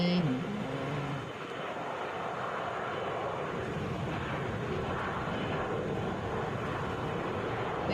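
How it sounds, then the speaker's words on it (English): An Airbus A321 airliner passes overhead with a loud, steady jet engine roar that fills the whole span and holds at a constant level throughout. "1826, going to San Antonio, Airbus A321."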